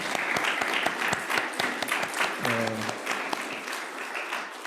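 A church congregation at a Korean Sunday worship service claps together, a fairly quiet, continuous patter of hands with a brief tonal sound partway through.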